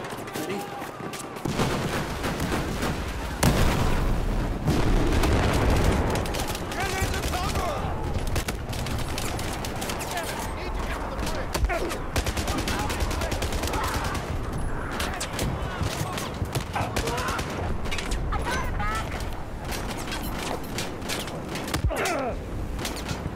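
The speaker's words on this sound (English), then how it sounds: "Fucking stop shooting me!" Gunfire in the shooter game Battlefield 4: loud, dense crackling bursts of automatic fire that keep going nearly without pause, with heavier booms mixed in and voices shouting over the noise.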